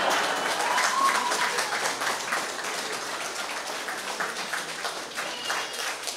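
Concert crowd at a Women's Day show by a band breaking into steady applause, a dense, continuous patter of many hands clapping throughout, with a faint voice briefly rising early on.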